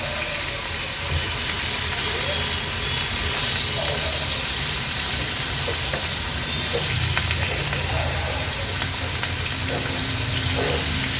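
Loud, continuous hiss and sizzle of jitada fish pieces frying in a hot pan on high flame, steady and dense with faint crackles throughout.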